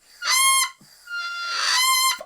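Two loud, bright honking crows from a Melvin bagpipe chanter reed, a short burst followed by a longer sustained one, close and alone.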